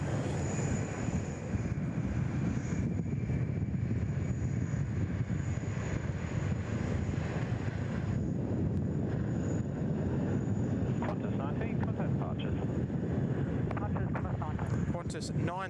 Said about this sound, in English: Qantas 19 off to Manila in the Philippines. Beautiful, always love the 330s. Start screaming out of here.